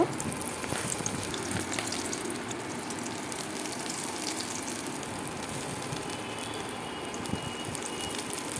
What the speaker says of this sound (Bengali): এখানে আমি সিদ্ধ করে নিয়েছি ডিম এবং সেগুলোকে হালকা হালকা করে ভেজে নেব